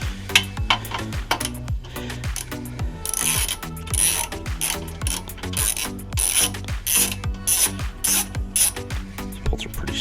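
A ratchet clicking rapidly in repeated bursts while loosening small 10 mm bolts on the radiator support brackets of a supercharged Camaro SS, close and loud with brief pauses between runs.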